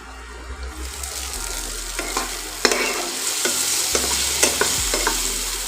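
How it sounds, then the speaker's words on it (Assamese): Okra frying over low heat gives a steady sizzle while a spatula stirs it around the pan, making intermittent scraping knocks close by. "এতিয়া এইখিনি অকণমান লৰাই লৈছোঁ"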